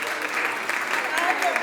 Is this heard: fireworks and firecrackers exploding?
no